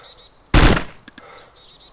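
Video-game gunfire: one loud sharp shot followed by a few quicker, fainter pops, with quiet game ambience around them and no voices.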